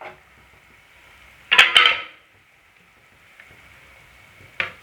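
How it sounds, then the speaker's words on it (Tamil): Carrots, beans and green peas tip into a pan of seasoned rava kichadi base, giving a short, bright clatter and rustle that fades, then one faint knock later in a quiet kitchen. "இப்போ நம்ம காய்கறியை சேர்த்துப்போம்."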